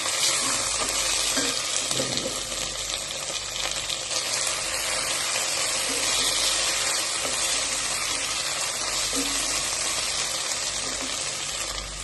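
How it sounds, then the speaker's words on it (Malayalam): Ginger and garlic paste sizzles loudly and steadily as it is sautéed in a pan for a beef dish, a dense continuous frying hiss with faint stirring beneath. "ഇഞ്ചി പേസ്റ്റ് വെളുത്തുള്ളി പേസ്റ്റ് നന്നായി ഒന്ന് വഴറ്റി കൊടുക്കും"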